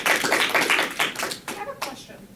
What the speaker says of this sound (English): Round of applause for